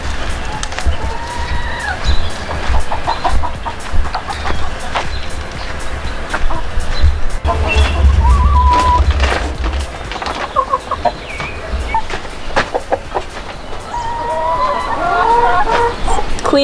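Chickens cluck on a home food-growing homestead, with repeated close clucks and squawks over a low rumble throughout, and a voice speaks at times.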